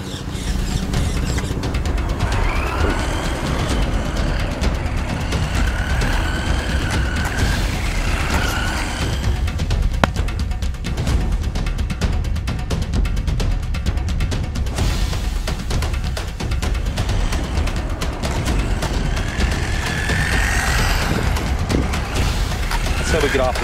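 A $65 Haiboxing RC truck drives with a steady whirring motor and rough rolling noise that holds throughout, while people talk over it.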